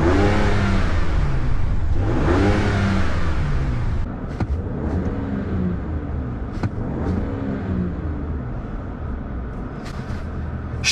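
A 2025 RAM with the 3.0L inline-six twin-turbo Hurricane standard output engine revs up, a loud close roar that rises and falls in a few sweeping surges before settling into a steadier idle hum.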